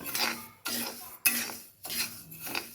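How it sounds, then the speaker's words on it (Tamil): Dry rice roasting in an iron kadai for alwa kali, stirred with a metal spoon: four or five rough scraping strokes about half a second apart, close and clear, with short pauses between them. "இந்த அரிசி கொஞ்சம் கொஞ்சமாக போட்டு இரும்பு கடாய்ச்சியில் நல்லா வறுத்து எடுத்துக்கணும்"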